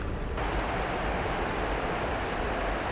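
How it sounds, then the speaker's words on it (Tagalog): Heavy rain pours down in a steady, dense hiss that stays loud and unbroken throughout, with no voices or other distinct sounds. "Sobrang lakas ng ulan."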